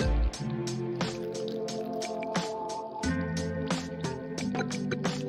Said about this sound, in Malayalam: അത് നമ്മുടെ കുടംപുളിക്കകത്ത് കുറച്ച് വെള്ളം ഒഴിച്ച് നോക്കാം